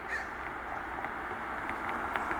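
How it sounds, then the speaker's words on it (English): A crow in a park caws a few times at moderate distance, soft short calls over a quiet outdoor background. "This crow is the one who likes to eat his peanut on the spot."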